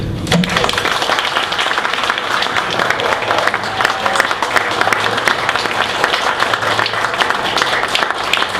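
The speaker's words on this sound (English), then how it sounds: "The applause you just heard from the audience" Audience at a speaking session with Razzak Dawood applauds, a loud, sustained roar of many hands clapping that fills the room evenly from start to finish.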